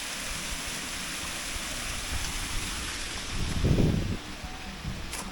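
Water pours steadily over a garden waterfall at a Thai tourist spot, making a continuous broad rushing hiss with a brief swell of heavier splashing partway through.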